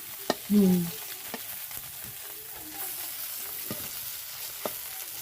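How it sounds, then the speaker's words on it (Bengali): Fish frying with garlic, green chili and onion over a clay stove, a soft steady sizzle under a few sharp clanks of utensils and one brief louder tonal burst near the start. "মাছ দিয়ে রসুন মরিচ দিয়ে পেঁয়াজ কাঁচা মরিচ দিয়ে ভুনা করব"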